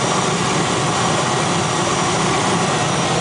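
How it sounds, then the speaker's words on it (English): An Auric Air Cessna's engine roars loud and constant as the plane takes off from the Seronera airstrip, a steady broadband drone close by with no talk over it. "taking off from the Seronera Strip, flying about 25 minutes to Grumeti."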